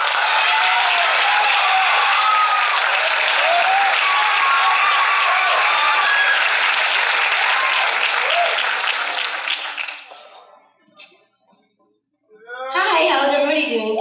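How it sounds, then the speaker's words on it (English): Loud, full audience applause welcoming a singer at a high school poetry slam, steady for about ten seconds, then dying away into a brief silence before a voice begins speaking. "Please give a round of applause for Anatallia."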